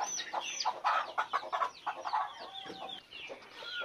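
Free-range chickens cluck and chatter in a coop at close range, a busy run of short overlapping calls with one brief whistling tone, no speech.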